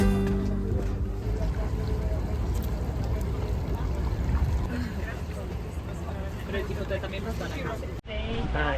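Steady low rumble of a tour boat motor on Lake Ohrid, North Macedonia, with a babble of voices over it, continuous until it cuts off near the end.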